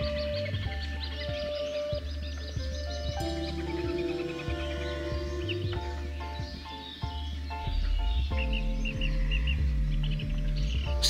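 Birds chirping and calling near a bird colony in a wetland thicket by Braila, many overlapping calls and trills close by, continuous and fairly loud with no talk.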